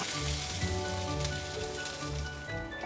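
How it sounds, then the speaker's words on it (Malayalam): Chicken sizzling in oil in a frying pan makes a soft, continuous crackle and patter like light rain, steady throughout with a faint underlying hum. "അതിനാവശ്യമായിട്ടുള്ള എണ്ണ ഒഴിച്ചിട്ട് ഇതിലേക്ക് തന്നെ ചിക്കനും എടുക്കാം"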